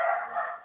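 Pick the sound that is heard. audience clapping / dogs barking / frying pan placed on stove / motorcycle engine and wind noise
dogs barking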